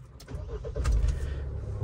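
A Mahindra Thar's engine starts up close by: a short crank that quickly catches into a running idle, all heard within about two seconds with no voices.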